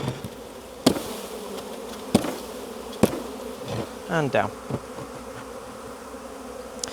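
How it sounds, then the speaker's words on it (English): Honeybees buzz steadily around an open hive in a dense, close drone, punctuated by several sharp knocks and thuds from handling the equipment, with a brief spoken word near the start. "Now these are flying bees, so that's why they're all here"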